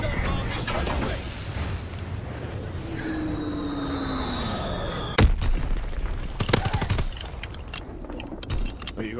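Gunfire in Call of Duty WWII team deathmatch: one sharp shot cracks out midway, followed by a few scattered quieter pops over a steady background rumble of battlefield ambience.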